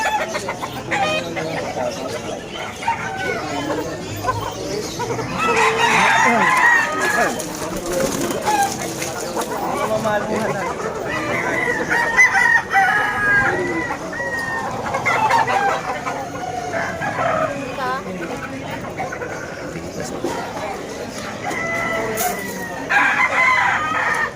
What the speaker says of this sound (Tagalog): Ayan, dito yung mga manok.